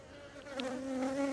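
Bees buzzing steadily around an apiary hive, a close, continuous drone that swells slightly with passing insects, heard alone.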